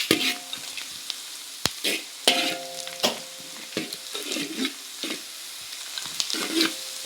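Onions sautéing in a pan while being cooked down, with repeated stirring scrapes and a steady soft sizzle, close and fairly quiet, without talk.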